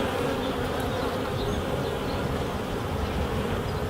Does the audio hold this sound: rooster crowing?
no